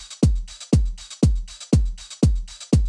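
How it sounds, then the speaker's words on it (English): Lo-fi house drum loop with a saturated, EQ'd hi-hat ticking in steady rhythm, six evenly spaced hits layered over a short thumping low kick, moderately quiet and without speech. "it's definitely a nice realistic sounding hi-hat"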